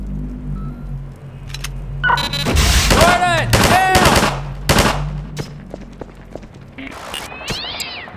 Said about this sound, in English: Did you hear a cat just now?